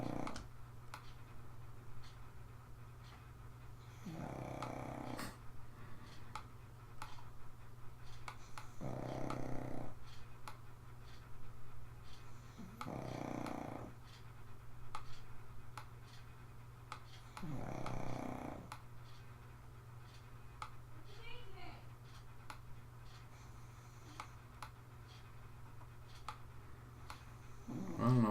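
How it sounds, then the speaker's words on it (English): A sleeping dog snores indoors in slow, regular drawn breaths, about six faint snores spaced a few seconds apart over a low steady background hum. "and Kipper snoring louder. Maybe my talking puts him to sleep."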